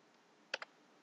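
Two quick, faint keystrokes on a computer keyboard in a quiet room, a sharp tap followed closely by a softer one.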